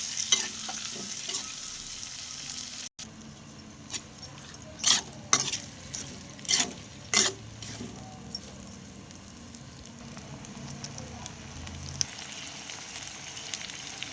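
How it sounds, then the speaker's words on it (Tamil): Boiled cluster beans being stirred as they fry in a pan: a soft background sizzle broken by several bursts of spatula scraping and rattling, with quieter stretches between, no voices. "கொத்தவரங்காய் சேர்த்து அதையும் நல்லா கிளறி விடுவோம்"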